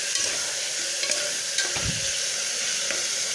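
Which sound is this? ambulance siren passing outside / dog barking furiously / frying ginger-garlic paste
frying ginger-garlic paste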